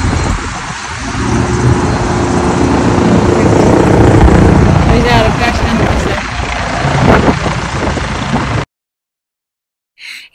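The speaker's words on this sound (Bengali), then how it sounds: "একটু পর পরে হেলিকপ্টার ওঠানামা করে" A helicopter lifts off and sets down at a ride site, its loud, continuous rotor and engine roar filling the air for several seconds before cutting off abruptly into silence.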